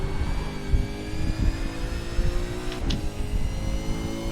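A V8 Supercar at Circuit de Spa-Francorchamps in iRacing, its engine droning and pulling steadily as it accelerates, with a brief sharp shift or blip partway through and no voices.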